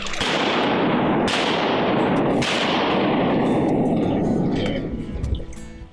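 Shotgun blasts during a duck hunt in Arkansas, several loud sharp reports in quick succession booming over a steady wash of wind or water noise, with voices talking around them.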